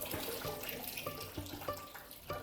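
Water bubbles and trickles in a small pond at the entrance of a terrace house, with steady splashing and a few gurgling pulses at close range and no voices.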